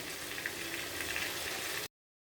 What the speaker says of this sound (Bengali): এই মশলাগুলোর সাথে নুন অ্যাড করে খুব ভালো করে ফ্রাই করে নিতে হবে